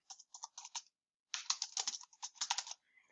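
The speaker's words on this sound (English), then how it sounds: "So you want to end your lineup by typing in the names" Quick bursts of computer keyboard typing, a short flurry, a pause, then a longer run of clicky keystrokes up close with no voices, entering names into a trading card baseball game.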